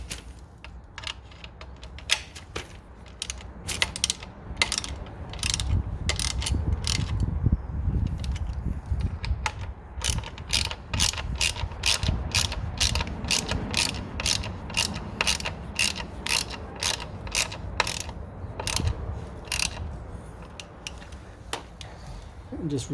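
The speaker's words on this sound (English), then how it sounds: "I'm going to tighten the bottom first on both sides and then the top." A ratchet tightens the screws of an Evo Tech radiator guard on a Triumph Street Triple 765 motorcycle, with rapid, close clicking in repeated bursts over a low background hum.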